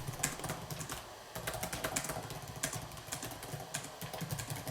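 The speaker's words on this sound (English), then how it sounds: "So this is me typing at 85 words per minute." Rapid typing on a computer keyboard at about 85 words per minute, a dense, steady stream of close clicking keystrokes with brief gaps and a low background hum, no voices.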